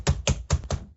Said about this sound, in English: That's typing. It's me typing.